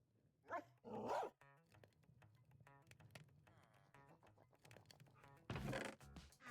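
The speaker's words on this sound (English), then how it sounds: "faintly, you will hear dogs barking in the distance" Dogs bark in short, sharp bursts, with a couple of quick barks early on and a louder burst near the end. Quieter muffled knocks and movement fill the gaps between them.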